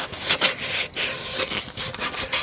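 Sanding a cooling tin from a 1972 Volkswagen Super Beetle, a steady scratchy rasp in repeated back-and-forth strokes with short pauses between them, close and fairly loud, with no talk.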